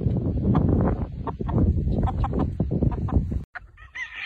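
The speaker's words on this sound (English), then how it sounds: "Got a nice little black pullet right here." Chickens on a gamefowl farm cluck close and constantly in a dense, overlapping chorus, with a brief quiet gap near the end.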